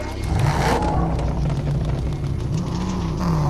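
A car engine revs steadily in the Fortnite video game, a continuous loud drone with rising and falling pitch that holds close and sustained from start to finish.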